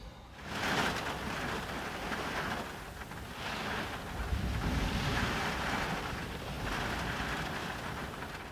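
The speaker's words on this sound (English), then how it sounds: "It's been 70-mile, 80-mile-an-hour gusts" Storm wind gusting at 70 to 80 mph buffets a parked van on the headland at Mizen Head, Ireland, heard from inside as a steady roar that swells in repeated surges, moderately loud and without talk.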